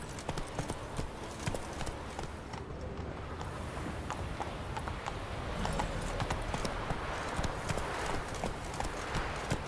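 Hooves of Roach, a horse in the Polish version of the video game Witcher 3, clip-clop in a steady galloping rhythm throughout, loud and continuous over a wash of outdoor ambience.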